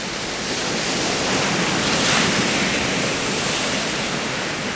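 Hollow surf wave breaking top to bottom, a steady broadband roar of crashing water that holds loud and even throughout, with a slight swell in the middle and no voices.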